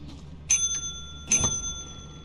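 A small bell pressed repeatedly in the game Lethal Company, two bright rings about a second apart, each leaving a long sustained ringing tone, with no talking.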